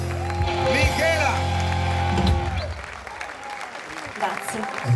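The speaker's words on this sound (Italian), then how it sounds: "Hai sentito che applauso, Michela?" Audience applause at an outdoor evening orchestra concert in a town square in Jesolo, a burst of clapping mixed with crowd noise and a voice on a microphone, fading after a few seconds.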